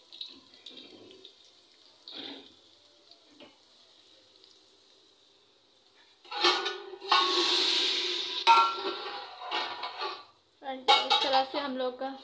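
Utensils clatter against a pot while dal tempering with garlic, chili and cumin is stirred, soft and sparse at first, then loud scraping, clanking and a burst of sizzling, with no talk.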